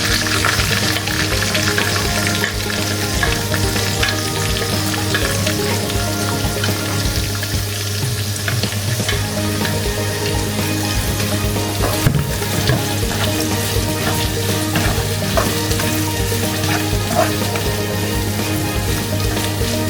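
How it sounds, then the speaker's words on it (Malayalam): Chopped onions sauté in a pan, a continuous close sizzle and crackle with a steady low hum beneath it and occasional soft stirring scrapes, lasting the whole stretch without speech. "നമുക്കിനി ഉള്ളി ഇട്ട് കൊടുക്കാം. നമ്മൾ അരിഞ്ഞു വെച്ചാൽ ഉള്ളി ഇട്ട് കൊടുക്കാം."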